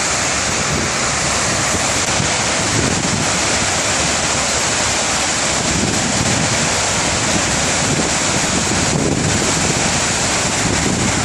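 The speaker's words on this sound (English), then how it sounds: "which is kind of a waterfall flowing into empty space" Dense, steady rushing of a waterfall pouring into the 9/11 memorial pool, loud and unbroken throughout, heard up close with some wind noise on the microphone.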